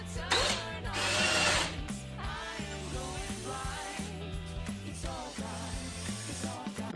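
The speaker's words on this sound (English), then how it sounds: "Take my brass point bit, put it exactly in the center, and drill away." A power drill with a brad point bit whirs in short bursts, rising and falling as it bites into wood, with a louder spell near the start.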